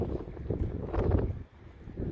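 Strong wind gusting over a kayak on the Rainy River, a steady broad roar of wind buffeting the microphone with faint water sounds beneath, continuous and close throughout.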